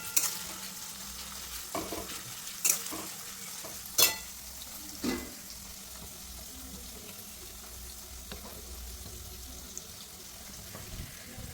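Vegetables being stir-fried in a pan for chowmein, with a few sharp scraping and tossing clatters early on and a soft steady sizzle underneath.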